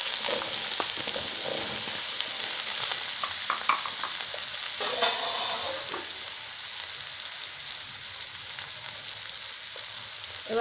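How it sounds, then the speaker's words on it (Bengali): Eggplant frying in a wok, a steady bright sizzle broken by a scattering of scraping and stirring clatters, heard close with no one speaking. "এবার বেগুনটাকে ভাজার জন্য কড়াইতে দিয়ে দিই।"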